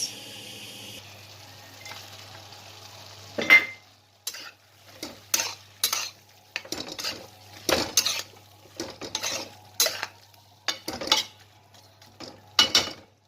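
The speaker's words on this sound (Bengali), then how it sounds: "ভালো করে নাড়াচাড়া করে আবারও ঢেকে দিলাম" Chicken keema with cumin powder, green chillies and peas being stirred in a pot, a run of clanking spoon-on-metal scrapes and knocks in irregular bursts, preceded by a softer quiet stretch, fairly close with no talk.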